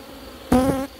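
At an open beehive, a honeybee buzzes loudly as it darts close past for about a third of a second. A faint background hum of the colony continues before and after.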